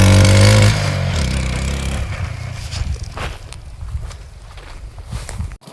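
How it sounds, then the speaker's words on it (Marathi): A dirt bike engine revs during off-roading on a farm, loud and close at first, then settling into a rumbling, varying drone that continues for several seconds. "तिची गाडी डर्ट बाईक वाजवायला लागलाय"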